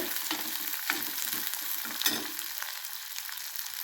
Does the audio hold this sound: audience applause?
no